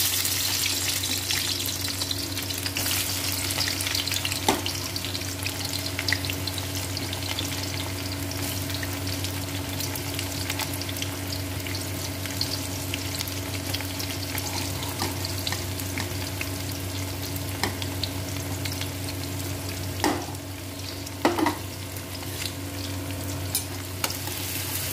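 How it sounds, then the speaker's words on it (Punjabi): Onions fry in hot oil for a tadka for a cabbage and pea sabji, giving a loud, continuous close sizzle throughout, with occasional light clicks from stirring. "ਆਹ ਸਾਡਾ ਹੋ ਗਿਆ ਤੇਲ ਗਰਮ, ਠੀਕ ਹੈ ਜੀ। ਇਹਦੇ ਵਿੱਚ ਪਾਵਾਂਗੇ ਹੁਣ ਅਸੀਂ ਸਭ ਤੋਂ ਪਹਿਲਾਂ ਪਿਆਜ਼।"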